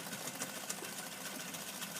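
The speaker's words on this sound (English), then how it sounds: "just to sew up that long line of the armhole and the facing at the same time" A sewing machine runs a continuous stitch along an armhole seam and its facing, giving a steady, fast, quiet mechanical whir with no pauses.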